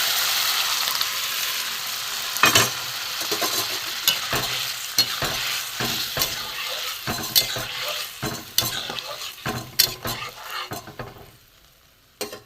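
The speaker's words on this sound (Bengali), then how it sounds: "ডাল এখন ফুটছে ডাল যত ফুটবে টেস্টটা ততই ভালো হবে" Mung dal with banana flower bubbles in a pot, a close, steady simmering fizz punctuated by irregular clinks and scrapes of stirring, growing quieter near the end.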